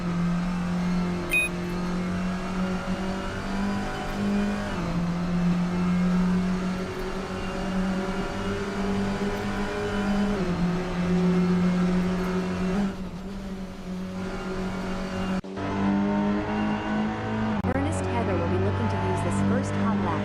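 A touring car's engine drones steadily around a track in a racing game, rising and falling through gear shifts with a brief drop and downshift near the end, while a commentator talks over it.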